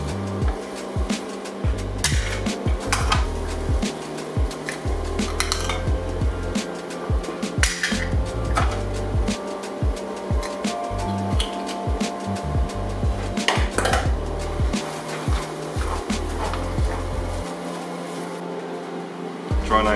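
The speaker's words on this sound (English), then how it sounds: "Try and angle your knife so it's along the top of the shell." Shellfish knife work on freshly caught scallops: a run of close, sharp clicks, scrapes and knocks of a blade against hard shells, irregular and busy throughout, with no talk.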